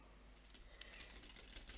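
Fingers type in quick, light, irregular bursts on a Logitech K750 keyboard, the close, moderately soft key clicks picking up pace after a short quiet start.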